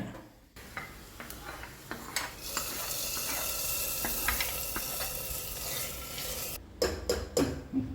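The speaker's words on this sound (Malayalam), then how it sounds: "ഇനി വെളിച്ചെണ്ണയിൽ ചെറിയ ഉള്ളി വഴറ്റിയിടാണ് വേണ്ടത്" Small onions sautéing in coconut oil, a bright steady sizzle with spatula clinks against the pan, close and moderately loud, ending in a few sharp metallic taps.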